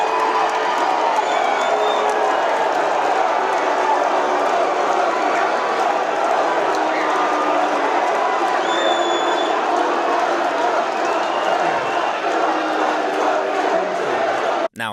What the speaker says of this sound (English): The beginning of Trump's speech was a mix of boos and cheers